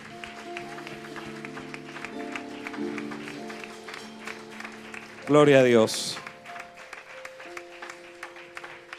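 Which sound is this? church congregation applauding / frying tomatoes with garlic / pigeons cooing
church congregation applauding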